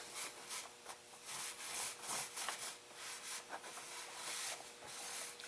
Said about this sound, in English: the stain has been sitting on there for a little bit, so we'll wipe off the excess here